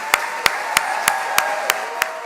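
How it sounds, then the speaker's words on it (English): Steady, evenly spaced claps ring out in a regular beat at a college staff development day opening session, about seven sharp hand claps in two seconds, moderately loud over a faint room hum. "Let's give them a big round of applause."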